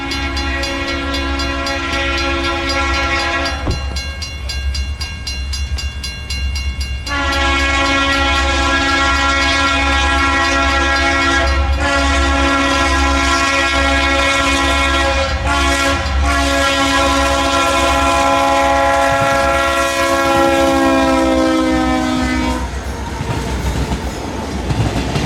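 Union Pacific Centennial 6936 roars past at speed on the former Rock Island mainline, loud and steady, while its whistle sounds in several long, drawn-out blasts with brief breaks between them.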